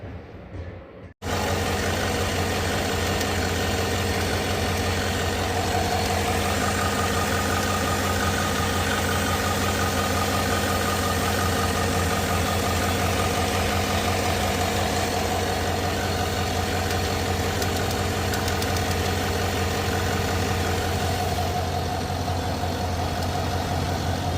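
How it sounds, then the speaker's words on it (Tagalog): A 2020 GMC Tahoe's 5.3L V8 engine idles steadily and loudly after a brief moment of near-silence, with a constant low rumble and mechanical vibration throughout. "umaanda na yung makina"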